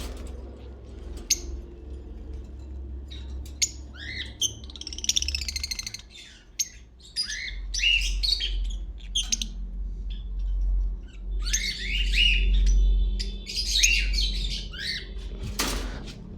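Lovebirds in breeding cages giving sharp chirps and squawks in scattered bursts, with a low steady hum underneath and a loud clatter near the end.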